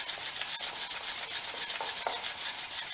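Sandpaper rubs back and forth by hand over the ends of a wooden pencil box, giving a quick, rhythmic rasping scratch with regular strokes, close and moderately loud, with no one talking.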